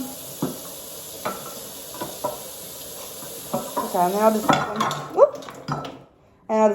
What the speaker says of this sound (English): so I need to wash my chopping board